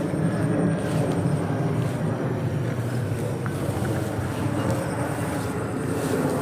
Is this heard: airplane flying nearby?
yes